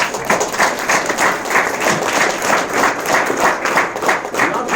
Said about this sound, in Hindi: ताली बजा ली, थैंक यू